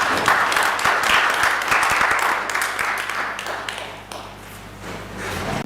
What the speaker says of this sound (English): So let us applaud at him.